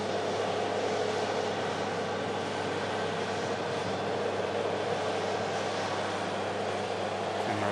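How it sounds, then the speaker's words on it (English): A Ryanair airliner arriving from Brussels, a steady broad engine roar holding at an even level throughout with no distinct peaks. "Turn our attention to this Ryanair flying in from Brussels."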